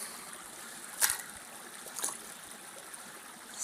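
Stream water gurgles and trickles steadily around someone wading through a wooded stream, a soft continuous flow broken by two brief splashes from steps.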